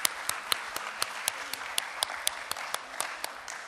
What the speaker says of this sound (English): Mr. Bhave, give him a big round of applause, please.